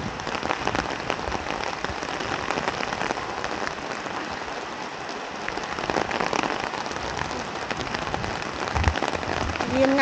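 Steady rain falls outdoors on a shrine's grounds, a dense, even hiss of drops on surfaces lasting throughout, with faint voices in the background.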